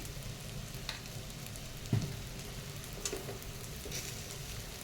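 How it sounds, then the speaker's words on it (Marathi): Rice sautéing in hot oil gives a soft, continuous sizzle at low volume, with a faint stirring scrape or two and no voices. "तर इथं मी तांदूळ पण छान परतून घेतलाय तेलात"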